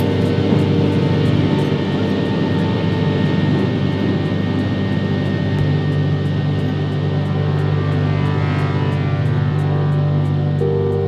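Airliner jet engines roar steadily and loudly through the takeoff roll and climb, a constant dense drone with no voices.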